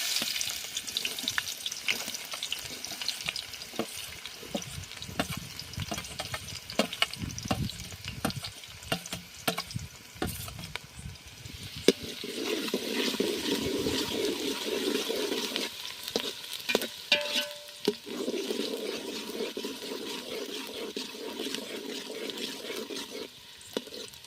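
Chopped onions hit hot oil in a pan for Gujarati eggplant bharta (ringan no olo), giving a steady close sizzle with scraping and stirring clatter throughout and no voices.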